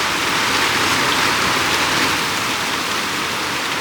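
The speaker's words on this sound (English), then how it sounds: "Ooh, it's really raining." Heavy rain pours down steadily in a jungle setting, a loud, dense, unbroken hiss of drops filling the air without a pause.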